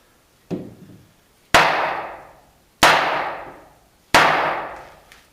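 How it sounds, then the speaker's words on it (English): Four sharp hammer blows on a wooden joint of a woodworking bench, evenly spaced about a second apart, each ringing briefly before fading; close and loud with no talking. "I'm going to hammer it together and see how well it fits."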